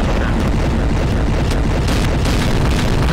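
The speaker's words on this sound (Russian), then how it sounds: "Сейчас будет, ребята, мега взрыв" A loud, continuous roaring rumble of bomb explosions in Garry's Mod fills the clip, dense and heavy with no pauses.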